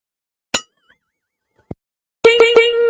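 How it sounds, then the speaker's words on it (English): A bright metallic bell-like ding rings out: one sharp clang, a faint tap, another short hit, then a cluster of three quick resonant chimes that sustain to the end, loud against silence. "ring that bell"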